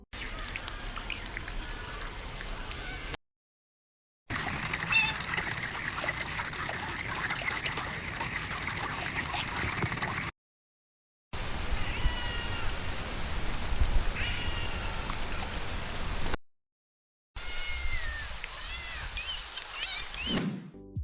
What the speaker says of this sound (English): A cat meowing next to a waterfall,